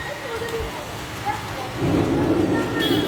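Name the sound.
thunder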